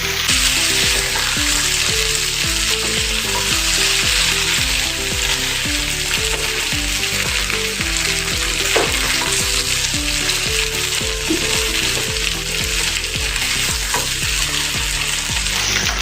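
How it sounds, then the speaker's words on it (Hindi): Leftover rice snack frying in a pan gives a loud, steady sizzle with a spoon scraping and stirring through it in a regular rhythm, close and continuous for the whole stretch. "चम्मच से इसे थोड़ा सा चला देंगे।"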